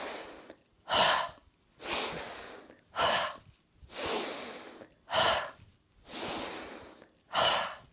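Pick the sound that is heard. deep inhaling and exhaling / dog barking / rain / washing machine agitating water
deep inhaling and exhaling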